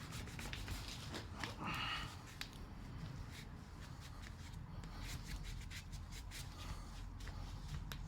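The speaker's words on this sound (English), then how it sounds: "Just gonna give this a wipe down so it's clean." Faint rubbing and scrubbing as a wet rag wipes down a surface outdoors in a driveway, a soft irregular swishing with a brief louder stroke early on, no talking.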